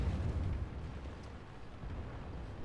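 A shell strikes a tank's gun barrel in the World of Tanks game, with a heavy low boom at the start that rumbles down into a dull, sustained roar.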